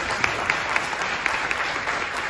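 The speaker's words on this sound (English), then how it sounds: "Let's one more time clap a little more time." An audience at an engagement ceremony claps together, a steady wash of many hands with a few sharper individual claps standing out, moderately loud and unbroken through the short stretch.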